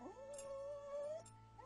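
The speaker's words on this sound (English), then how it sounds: "The Yorkie is an independent dog, but a devoted companion." A Yorkie dog gives a drawn-out whimpering howl, rising into one long steady note and then sliding off into softer whines, heard up close and alone.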